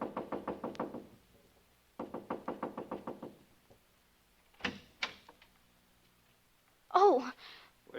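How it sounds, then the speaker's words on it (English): Repeated knocking on a house door in a radio drama: a rapid run of about eight raps, a pause, another run of knocks, then a few louder thuds before a voice is heard. "So I just kept knocking and knocking."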